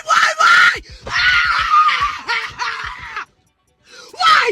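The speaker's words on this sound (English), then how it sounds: "that gave me a headache when she was screaming" A woman in a played news-style clip screams and wails in long, loud, strained bursts, with breathy gasps between, a short silence, then another shrill scream.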